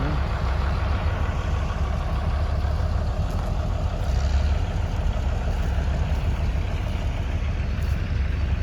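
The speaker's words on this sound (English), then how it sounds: "It's a diesel engine." A heavy diesel engine of an old Caterpillar runs continuously nearby at an outdoor antique machinery show, a loud, rough, steady rumble with no breaks and no voices.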